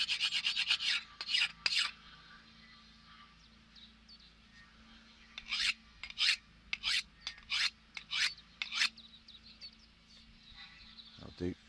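A blade is sharpened with a small hand sharpener outdoors, giving bursts of raspy scraping strokes, a quick cluster first and then a longer run of separate strokes after a pause.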